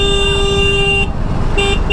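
Heavy road traffic drones with a loud, sustained car horn that breaks off and then sounds again in a short second toot.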